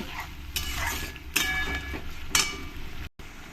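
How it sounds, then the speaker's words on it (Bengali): Chicken curry spice paste sizzles in a pan after a splash of water and is stirred, with several bursts of hissing frying and scraping strokes over a constant low sizzle, close by. "জল দিয়ে মশলাটাকে আমি ভালো করে কষিয়ে নেব"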